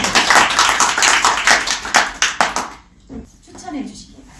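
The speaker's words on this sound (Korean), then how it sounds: "이의가 없으시다면 전체 박수로 의결하도록 하겠습니다" Applause from an audience approving a resolution at a party founding meeting, a dense burst of many hands clapping for about three seconds before fading into quieter murmur and scattered sounds.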